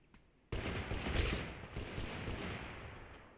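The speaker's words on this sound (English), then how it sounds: "It sounds like a deagle." Desert Eagle pistol fire in the video game Totally Accurate Battlegrounds breaks out suddenly after a quiet moment: a loud burst of rapid overlapping shots, followed by a decaying rumble with a few further cracks.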